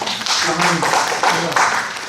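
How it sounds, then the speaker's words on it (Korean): Audience clapping at a church Bible study session, a short scattered burst of claps under a speaking voice that carries through it. "박수를 한번 쳐주시죠"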